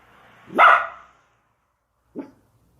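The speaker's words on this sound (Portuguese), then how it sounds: "latindo pro carro." A dog barks twice at a car, a loud sharp bark followed by a shorter, fainter one after a pause, in otherwise quiet surroundings.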